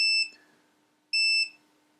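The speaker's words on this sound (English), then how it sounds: "you can hear the beep" A Uni-T UT196 multimeter gives two short, clear, high-pitched continuity beeps about a second apart, close and loud against near silence.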